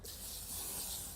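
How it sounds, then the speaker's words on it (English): A short, close hiss of an aerosol helmet cleaner sprayed on a motorcycle helmet, one continuous burst lasting about a second. "You just spray it like this, right?"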